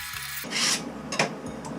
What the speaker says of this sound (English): I'm going to first go ahead and scrape around where I put some mud on